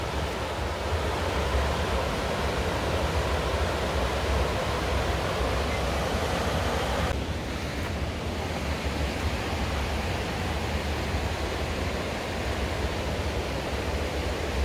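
Anna Ruby Falls near Helen, Georgia: the waterfall makes a constant, heavy broadband roar of rushing water that fills the whole stretch without pause, close and loud, with no one speaking.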